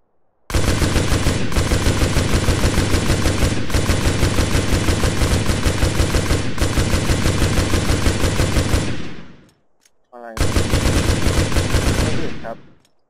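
Sustained automatic gunfire in MTA DayZ pouring into a car, long unbroken bursts of rapid shots, loud and close, with a brief pause before another burst.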